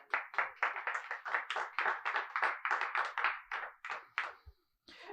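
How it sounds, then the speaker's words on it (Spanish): A church congregation claps in rhythm, about twenty sharp, even claps in quick succession before the clapping fades and stops. "Denle un fuerte aplauso al Señor."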